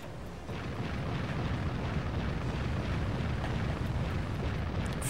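Warship guns fire in Warship Gunner 2, a dense, continuous rumble of booming naval cannon blasts that builds after a brief quieter start and then holds loud and steady throughout.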